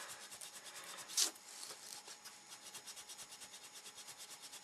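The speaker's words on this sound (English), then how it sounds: "I can get in there with a skinny stick and sand those off." A skinny sanding stick rubs over a part of a Ju 88 model aircraft in steady close strokes, a soft repetitive scraping rhythm with one brief louder scrape near the start.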